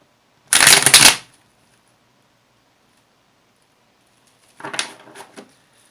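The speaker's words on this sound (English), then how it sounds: "I always shuffle until it seems exactly right." Tarot cards shuffled by hand in two separate bursts, a long loud riffle near the start and a shorter, softer run of shuffling later, with quiet in between and no talking.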